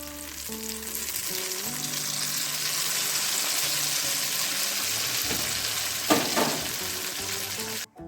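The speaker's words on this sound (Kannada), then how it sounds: "ಈಗ ಒಗ್ಗರಣೆ ಹಾಕೋಣ ಒಂದು ಸ್ವಲ್ಪ ದ್ರಾಕ್ಷಿ ಗೋಡಂಬಿ ಸೇರಿಸ್ಬಿಟ್ಟು" Raisins and cashews sizzle and crackle steadily in hot oil or ghee, a tempering for moong dal payasam, with a brief louder burst of spatter near the end before it cuts off.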